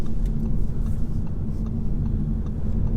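A 2020 Audi A5 35 TDI diesel accelerates in manual mode, a steady low engine rumble with road drone heard from inside the cabin, continuous and fairly loud.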